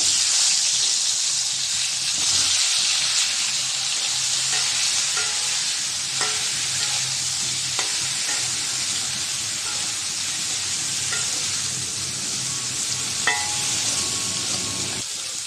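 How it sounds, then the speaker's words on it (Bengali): Cauliflower fries with a pinch of turmeric in oil, giving a loud, continuous hiss and sizzle with occasional soft scrapes of stirring, and no voices. "ফুলকপিটা একটু ভেজে নেব সামান্য পরিমাণ হলুদের গুঁড়া দিয়ে দিলাম"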